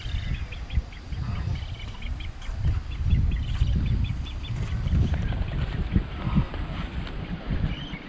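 Ducks call on open water near an island in the Darling Downs, faint repeated quacks and chatter mixed into steady wind buffeting and low boat-like rumble.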